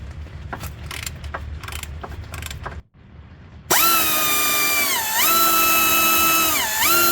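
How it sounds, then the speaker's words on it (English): A ratcheting box wrench works a bolt while a 1999 Acura RL starter is replaced, giving a few quick clicking strokes, then a short pause before a loud, steady mechanical whine with wavering pitch takes over. "So I have a box wrench that's ratcheting"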